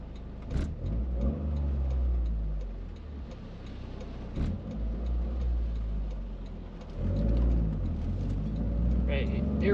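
A Toyota GR Corolla fitted with a Cusco pitch mount pulls away in traffic with a low engine drone and gear changes marked by brief dips and surges, while a driver talks over the cabin noise.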